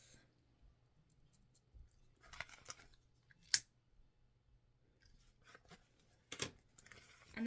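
A few sharp snips of scissors cutting excess material from a sewn zipper pouch, spaced out against a quiet background, with light clicks and handling noises between them.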